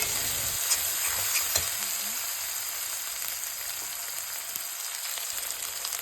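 Spices with turmeric sizzle and fry in a pan while being stirred, a steady hiss with occasional clinks of the spoon, close and alone with no voices.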